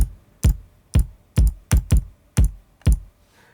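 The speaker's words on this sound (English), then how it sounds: "You need to hold the key down," Computer keyboard keys pressed and held in a sequencer setup, seven distinct loud clicks at an uneven rhythm, some in close pairs, heard close with no talk.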